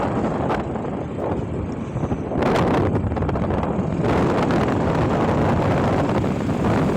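Loud, continuous wind roaring and buffeting against the microphone while four people ride one motorbike in cold air, growing stronger partway through.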